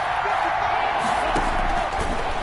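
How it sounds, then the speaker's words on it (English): Steady roar of a stadium crowd cheering ahead of a big third down in a Madden-style football video game, Miami at Tampa Bay, loud and continuous throughout. "the crowd getting into it as we come up on a big 3rd down"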